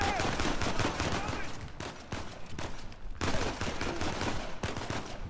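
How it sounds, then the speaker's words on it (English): Rapid gunfire in Uncharted 4: A Thief's End, dense bursts of shots close and loud across several seconds with brief gaps, a voice occasionally mixed in. "Oh, you can shoot while you're swinging!"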